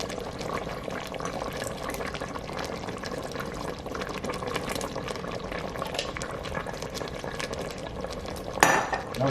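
Gravy master is stirred into oxtails in an Instant Pot, a steady scraping and clinking of a spoon against the metal pot with faint bubbling, ending in a sharper clank.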